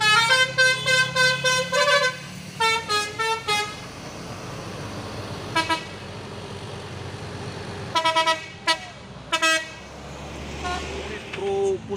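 An orange KPB bus blares its multi-tone horn in several loud, repeated blasts, some rapid and some longer, over engine noise while people talk nearby.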